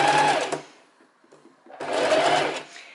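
A sewing machine stitches a seam on a linen dress in two loud, fast bursts of whirring, separated by a quiet pause with faint handling clicks.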